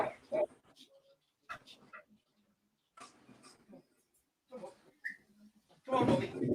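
A dog tired after a mountain walk gives short, faint whimpers and yips scattered among bursts of people talking nearby.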